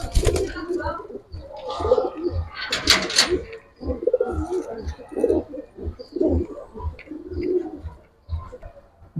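A Sabchila pigeon, a Bangladeshi high-flying Giribaz breed, coos repeatedly up close in a steady pulsing rhythm, with brief chirps and faint wing flutters and some background voices.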